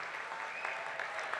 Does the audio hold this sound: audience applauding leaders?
yes